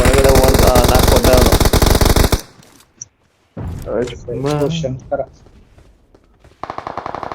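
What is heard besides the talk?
machine gun fire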